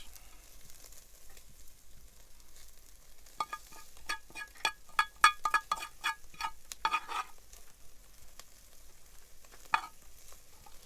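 Onions frying on an outdoor grill plate for a steak sandwich at a rangeland park: a low, faint sizzle broken by a flurry of sharp spatula clicks and scrapes in the middle, then quieter.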